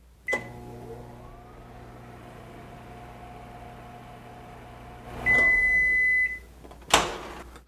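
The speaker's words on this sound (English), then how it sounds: "Well, we stick it in the microwave" A microwave oven hums steadily while heating a dish for an egg-in-a-frame recipe. A door clunk follows, then a sharp electronic beep and a final clatter, all close by.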